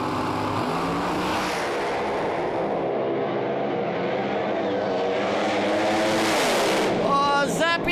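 Pro Slammer drag race cars roaring as they stage and launch down the quarter mile, a loud, sustained engine howl with rising revs and a sharp burst of acceleration near the end.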